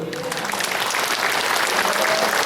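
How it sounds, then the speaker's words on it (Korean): A church congregation bursts into loud, continuous applause, a thick wash of many hands clapping at once that holds steady for the whole moment, with faint voices underneath. "주님 앞에 영광의 박수 하시고"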